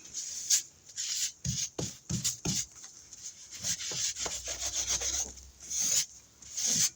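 A wet wipe scrubbed across a stencil during mixed-media background prep, heard as close, brisk rubbing strokes in uneven bursts with short pauses, with no voices over it.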